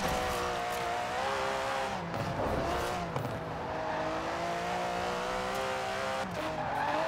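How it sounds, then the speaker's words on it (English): A small rear-wheel-drive Aston Martin in Forza Horizon 4 spins its wheels under throttle, its tires squealing steadily over a strained, revving engine for the whole stretch. "It just spins its wheels in every gear."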